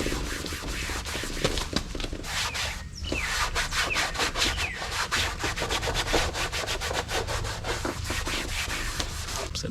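A rag applicator rubbing product over the surface of a Ford F550 truck, making steady back-and-forth scrubbing strokes, close and continuous, with a short break partway through.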